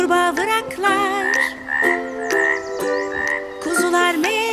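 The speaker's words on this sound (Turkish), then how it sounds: "Kurbağa vıraklar." A frog croaks repeatedly in a bouncy children's song, with short raspy calls set against a backing of tuneful music.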